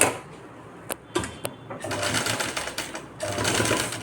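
A sewing machine stitches along a folded blouse sleeve, a few isolated clicks first, then a fast steady whirring run, a brief pause and another burst, close and fairly loud.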